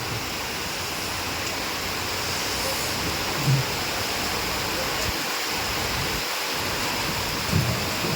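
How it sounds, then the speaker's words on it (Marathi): Steady heavy rain pouring down in Lonand, Maharashtra, a dense continuous hiss with a few faint low thuds, with no voices. "कसला पाऊस आहे बेकार असल्या पावसात घाऊ नाही कुणी बाबा"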